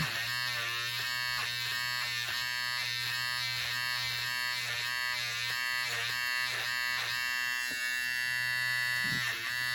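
A small electric stitch remover buzzes steadily and loudly as it slices through thread stitching on fabric, with a continuous motor drone and slight rhythmic pulsing as it cuts, and no voices.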